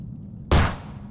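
A single loud, sharp gunshot blast in the horror video game Nightmare of Decay stands out against a low background hum, a brief burst that quickly fades.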